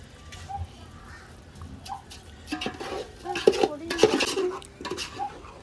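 Biryani being stirred in a cooking pot at an Eelam Tamil refugee camp, the utensil clanking and scraping against metal in irregular bursts that grow louder midway, with faint voices in the background.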